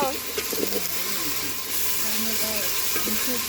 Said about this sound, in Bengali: আমরা এটা এখন ভালো মতো কষিয়ে নেবো, আদা রসুনের জন্য স্মেলটা চলে যায়।